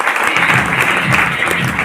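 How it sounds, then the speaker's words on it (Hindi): Loud, steady clapping from a seated audience at a business motivational talk, a thick continuous wash of many hands without pauses. "दोनों के लिए जोर ताली।"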